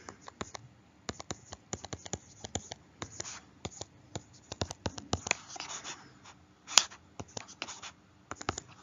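Equations written out by hand for a coordinate geometry lesson: close, dry pen or pencil strokes in quick irregular bursts of scratching and tapping, with short pauses between marks.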